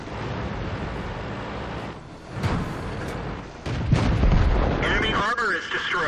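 A World of Tanks battle on the Cliff map with a tank cannon firing, heavy booming blasts rising over continuous rumbling game noise, followed by crackling effects near the end, while someone talks throughout.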